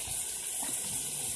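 Water spills steadily from the lid of a Hitachi rice cooker, a continuous close trickling and gushing that holds at an even level throughout.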